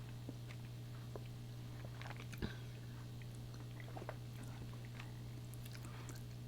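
People chewing milk chocolate, a creamy Southern-made bar, with soft close mouth sounds and one sharper bite, over a steady low hum; no talking.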